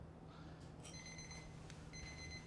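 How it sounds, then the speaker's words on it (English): An oven timer beeps in short high electronic bursts in a home kitchen where coffee is roasting in the oven, faint and repeated over a low hum. "So here's the oven timer going off."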